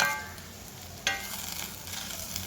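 Okra coated in a flour and semolina batter mix is stirred in oil in a pan, a steady soft sizzle with scraping spoon strokes and one sharper clatter near the start.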